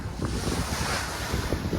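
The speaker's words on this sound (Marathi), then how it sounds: "वारा भरपूर आहे." Strong wind and waves at sea aboard a fishing boat off Satpati village near Mumbai, out for pomfret fishing; a loud, steady roar of wind buffeting the microphone over constant surging surf, with no talk.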